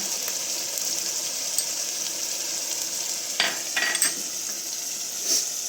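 Poppy seed paste is stirred into a frying pan with a utensil, a steady hiss of sizzling throughout with a few sharper scrapes and clinks of the spoon against the pan.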